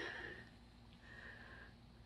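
A foster rescue dog sniffs around outdoors, making faint, quick snuffling breaths close by with no voices over them.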